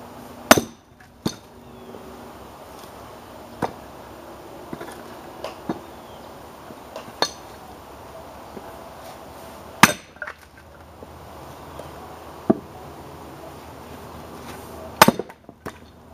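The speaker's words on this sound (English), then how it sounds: "I got my splitting maul here and I got my wood." Sharp, isolated thwacks ring out at irregular intervals, each a single heavy splitting-maul strike splitting wood, with quiet outdoor ambience between blows.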